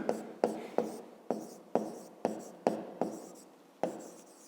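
Chalk or marker taps and strokes on a classroom board come in a regular series of about ten crisp, close hits, each fading quickly, while a maths problem is worked out.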